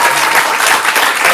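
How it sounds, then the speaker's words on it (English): Audience applause at a live improv comedy show, a dense, steady burst of clapping from the crowd lasting just over a second with no talking over it. "Let's give them a round of applause."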